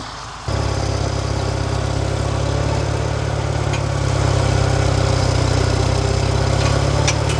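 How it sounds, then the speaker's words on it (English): Diesel engine of a loader tractor idling on a small farm during an ear corn harvest, a steady low rumble that starts abruptly after a moment of quiet and stays close and loud, rising slightly partway through. "So I'll jump on the loader tractor, and Brent will help me get hooked up."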